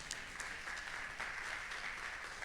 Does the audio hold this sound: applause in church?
yes